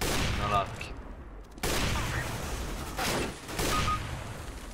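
Gunfire from Counter-Strike: Global Offensive, with loud broadband bursts of rifle fire including shots through a wall, arriving in three or four close clustered volleys separated by brief lulls.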